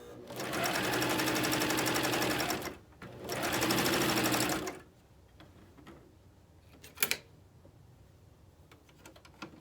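A Janome Coverstitch 900, 1000CPX or 2000 sewing machine hems fabric in two loud, steady whirring runs, each a few seconds long, followed by quieter clicks and handling noises.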